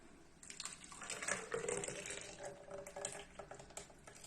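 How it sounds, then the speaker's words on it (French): Crepe batter pours into a blender for several seconds, a soft, steady liquid stream that swells and trickles, close by and fairly quiet. "je prends mon blender et je vais verser tout ça"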